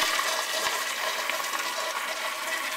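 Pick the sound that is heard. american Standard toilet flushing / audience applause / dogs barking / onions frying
american Standard toilet flushing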